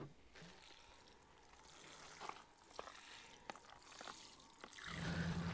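Faint trickling and splashing as water is poured into one cell of a garden planter, soft and distant, with a few brief drips and a louder swell of water at the end.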